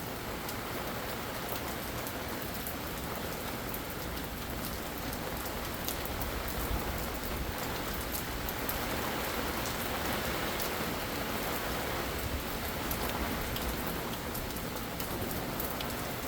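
Steady rain falls during a summer thunderstorm in Utah, a dense, continuous patter and hiss of drops on surfaces that holds at an even level throughout with no voices.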